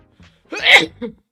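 A single sharp sneeze from a man during a live trading session, a brief intake followed by a loud burst, with a small trailing sound after.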